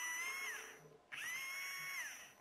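A small DC motor powered by a 9-volt battery whines at a high steady pitch, spinning down briefly and then starting up again to run at the same pitch. The sound is close and clear, with no talking.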